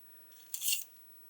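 God Hand nippers make a single crisp snip through a plastic hose piece on a 1/8 Pocher Porsche 917 model kit. It is a short, bright click in a quiet room.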